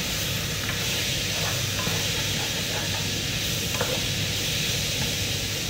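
Ground pork frying in its own rendered fat in a home kitchen pan with patola squash, a steady dense sizzle and hiss with occasional stirring scrapes, close and continuous without talk.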